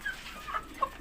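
A Rhode Island chicken clucks softly nearby, a few short separate clucks spread across a quiet, low background.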